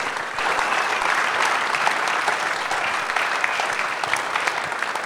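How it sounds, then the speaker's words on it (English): A large audience at a rodeo hall of fame induction panel claps for the year's inductees, with dense, sustained applause filling the room at a steady level and no talk above it. "how about a great round of applause for this year's inductees?"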